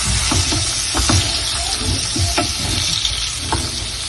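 Chicken masala sizzling loudly and steadily in a pan over medium heat, a dense frying hiss with occasional soft taps and stirring sounds throughout.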